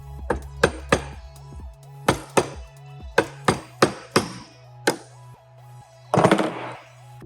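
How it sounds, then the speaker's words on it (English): Metal punch struck with a hammer to tap a bearing out of an XAG P100 Pro drone motor housing held in a vise: about a dozen sharp, ringing taps at uneven intervals, close and clear, with a short rattling cluster near the end. "Using your punch, you should be able to lightly tap it out."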